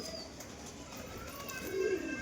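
Good-quality male flying pigeons coo in low murmuring calls that swell louder toward the end, with a voice talking faintly over them.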